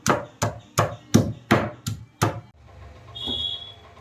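Green chillies being crushed for a beef curry, seven firm, evenly spaced pounding thuds close by, followed by a quieter stretch of faint handling.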